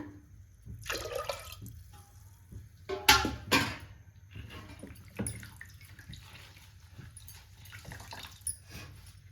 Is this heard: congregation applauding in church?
no